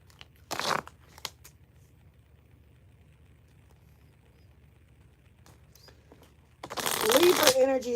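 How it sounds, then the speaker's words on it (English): Tarot cards shuffled by hand, a brief riffle early, a few faint taps, then a louder, longer flurry of shuffling near the end, close by. "Let's get the final shuffle."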